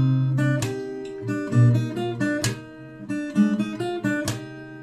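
Acoustic guitar played fingerstyle on a song, with plucked notes interspersed with percussive slap-and-strum hits, close and clear, no talking.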